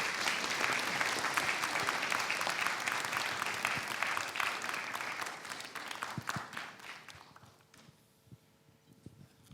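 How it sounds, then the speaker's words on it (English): Audience at a launch event applauding for a minister, a full round of dense clapping that gradually thins into sparse individual claps and fades out toward the end. "Could we please give Minister Kono another round of applause?"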